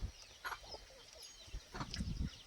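Free-range village hens kept at home cluck in short scattered bursts, fairly close, over a low rustling background with no talk.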